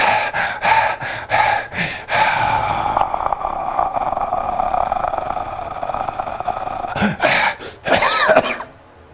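A voice imitates Cheyne-Stokes breathing: a run of quick, loud, gasping breaths, then a long stretch of near-silence with no breathing, then several more rapid gasps near the end.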